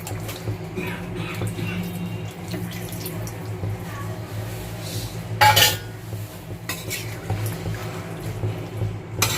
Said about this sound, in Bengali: এবার আমি এক বাটি দুধ দিয়ে দিচ্ছি।